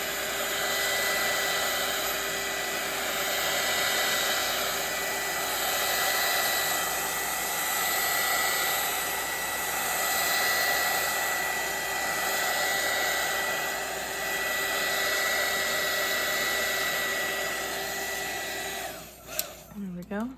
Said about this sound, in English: So I'm just gonna blow dry it real quick.